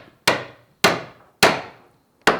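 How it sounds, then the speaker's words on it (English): Four sharp hammer blows drive nails into a wooden plank, evenly spaced about half a second apart, each a loud crack with a short ringing decay, close by and with no talking. "with the nail set, start to drive them home"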